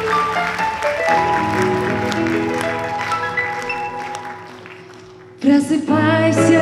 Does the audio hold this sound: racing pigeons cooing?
no